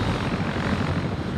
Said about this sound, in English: Which is why I'm making these fucking helicopter passes to provide ambient.